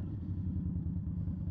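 A 2020 Indian Scout Bobber motorcycle engine, a close, low, steady rumbling idle that stays throaty and even, with no voices.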